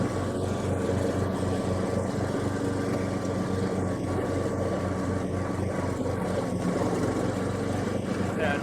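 A Club Garden CG 98 M SD ride-on mower cuts grass with its blades engaged, giving a continuous, steady engine drone with a low, even hum that holds throughout.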